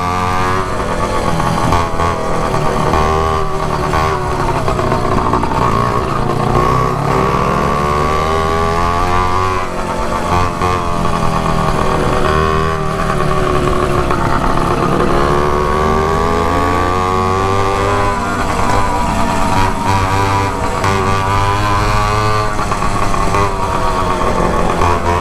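Motorized 29-inch-wheel bicycle with a straight pipe and no muffler, its small engine buzzing loud and raspy up close for a long stretch, revving up and down in waves as it rides.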